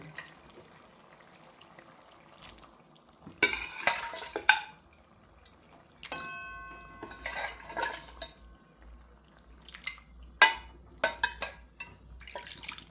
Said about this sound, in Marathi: त्यानंतर आता आपण त्यात उकडलेलं मटण टाकून घेऊ